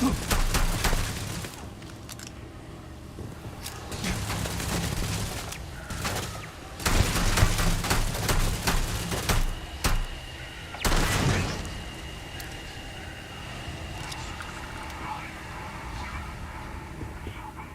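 Turrets open fire in Starfield, loud bursts of shots and booms arriving in several separate volleys with quieter stretches between them.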